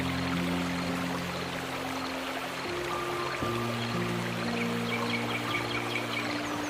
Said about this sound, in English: The waterfall continues its peaceful flow